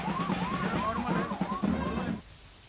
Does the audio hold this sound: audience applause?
no